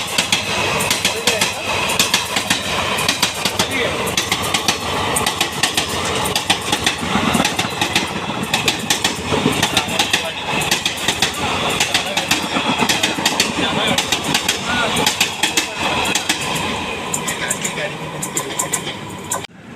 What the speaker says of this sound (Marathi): ही बघा गाडी इल्या रत्नागिरी CST मेमू ट्रेन म्हणजे गणपती स्पेशल ट्रेन